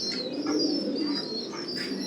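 Fancy pigeons of an old pure bloodline coo softly in repeated low, rolling phrases, with a few faint chirps in the background and no talking.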